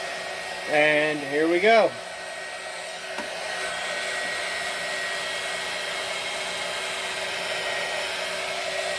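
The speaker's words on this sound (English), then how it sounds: "Get my heat gun all warmed up." A heat gun warms up to heat wrinkle paint on a Zippo lighter, giving a loud, steady blowing drone that holds throughout after a brief voice at the start.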